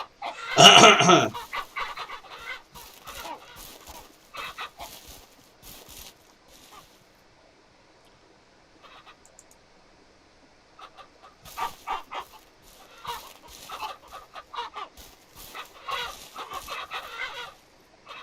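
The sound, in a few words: roosters and chickens clucking in video game Ranch Simulator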